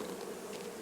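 Honey bees buzz around an opened hive during a farm hive inspection, a steady, close insect drone filling the whole moment alone.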